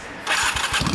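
A 1993 Honda Steed 400 motorcycle with its stock muffler starts up, a brief, loud, close burst as the engine catches and begins firing.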